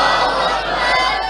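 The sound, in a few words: crowd shouting in response to the takbeer slogan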